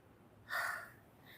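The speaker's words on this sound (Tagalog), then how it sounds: "Hinihingal na ako." A heavy panting breath, a single loud huff of exhalation, while walking along a beach.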